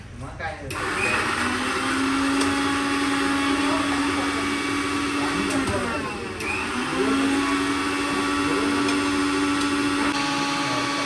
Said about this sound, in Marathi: हे इकडे बाजूला मिक्सर करत आहेत